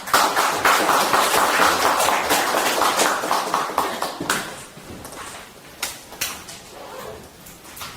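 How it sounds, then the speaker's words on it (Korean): An audience at a National Assembly policy forum claps to welcome a speaker, with dense clapping for about four seconds that then thins into scattered, fading individual claps. "박수로 환영해 주시기 바랍니다"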